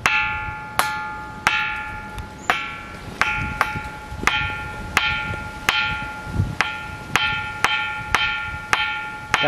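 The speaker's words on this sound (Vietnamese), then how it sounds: "Cái giờ kêu bằng đá chuông hả?" Out on a mountain, a ringing rock, a natural stone bell, is struck about a dozen times at an uneven pace. Each hit gives a bright metallic clang that rings on with a clear tone.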